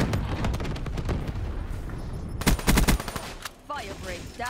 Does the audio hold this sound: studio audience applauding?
no